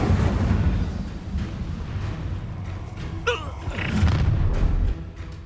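Incendio fire spell blasts in Hogwarts Legacy: a loud booming burst with a crackling whoosh, set against continuous combat noise and low rumble.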